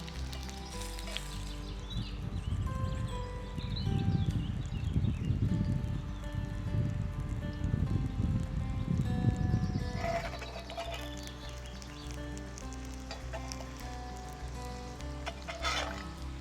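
Nettle fritters fry in a pan with a steady, moderately loud sizzle over music, then the bubbling quiets to a fainter hiss after about ten seconds.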